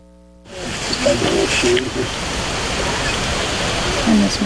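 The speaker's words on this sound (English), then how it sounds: "let's look at Taughannock Falls" Taughannock Falls in the Finger Lakes region of New York, water pouring with a steady broadband roar that swells in abruptly after a short quiet start and holds at a constant, fairly loud level.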